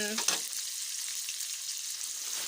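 Pork belly and ridge gourd stir-frying in a pan with fried garlic: a steady, bright sizzle of hot oil running throughout, with a brief clatter of stirring at the start.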